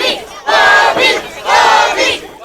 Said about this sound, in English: Crowd behind Valentine